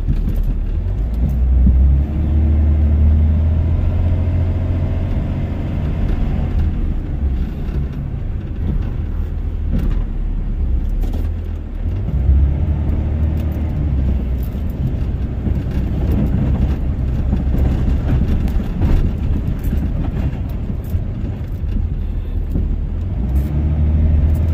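A Dodge Ram with a Cummins diesel plows light snow in the cold, its engine droning low and loud throughout with rising and falling revs as the truck pushes and backs up.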